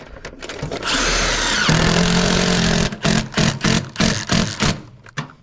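A Milwaukee Fuel impact driver sinks screws while a metal rain gutter is installed. A long whirring run ends in rattling impacts, followed by a rapid series of short, loud, evenly spaced hammering bursts close by.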